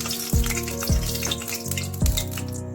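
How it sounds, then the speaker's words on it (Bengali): White oil sizzles in a hot wok with a steady, moderately loud hiss, broken by a few dull, regularly spaced metallic clunks. "এবারে কড়াই গরম হলে এতে আমরা দিয়ে দেবো পরিমাণ মতো সাদা তেল।"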